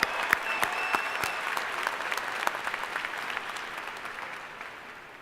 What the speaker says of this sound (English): join me in welcoming your family and friends with a round of applause for supporting you throughout your education